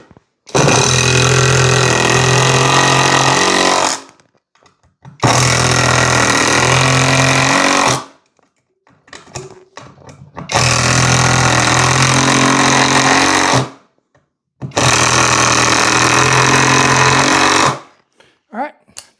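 A bargain power driver fitted with bits drives screws in four long, loud bursts of whining motor and grinding, each several seconds long and separated by short pauses with small clicks and handling noises.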